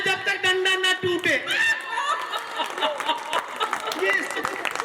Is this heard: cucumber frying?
no